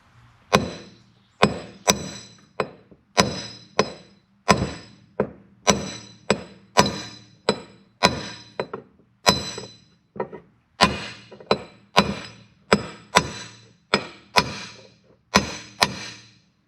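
A hammer drives a Harley-Davidson seal into place using a main drive gear nut socket as a driver. About twenty sharp metallic strikes land close by in a steady, slightly uneven rhythm, each ringing briefly with a glassy clink.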